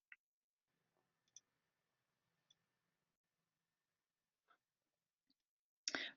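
A computer mouse gives a few sparse, faint clicks spread through near-silence, followed by a louder burst at the end.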